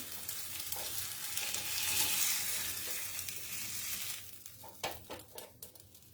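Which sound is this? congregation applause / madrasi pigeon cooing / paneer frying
paneer frying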